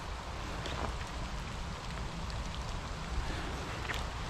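Steady rain falls beside a canal during an early morning cycle ride, a dense even hiss of drops with a low rumble of wind underneath, constant and close with no voices.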